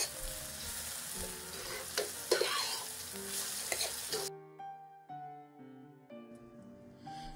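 Onions frying with whole spices in a pan, giving a dense hiss and crackle with occasional stirring scrapes that stops abruptly about halfway, after which soft background music continues.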